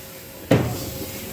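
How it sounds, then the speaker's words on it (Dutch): A single sharp thud of the doors of an SGMm train shutting nearby, followed by a short fading rumble. "Nog één keer zo de deurtjes."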